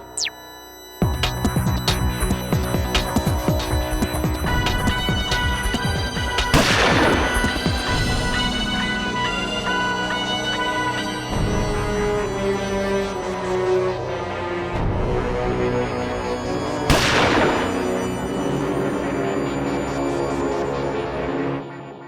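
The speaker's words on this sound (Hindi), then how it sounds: "मैंने गोली चलने की आवाज तो सुनी" Two sharp gunshots ring out about ten seconds apart over loud, steady music in a courtroom TV drama, each with a brief crack and decay.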